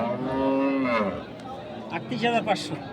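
A bull at a busy Eid cattle market in Dinajpur lets out a long, loud, deep moo, followed by quieter crowd noise and brief murmuring voices.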